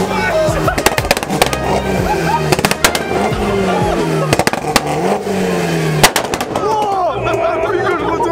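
Rapid, loud cracks and bangs pop from a Honda CBR motorcycle exhaust tuned for pops and bangs on a dyno, over the revving engine, irregular bursts throughout with voices nearby.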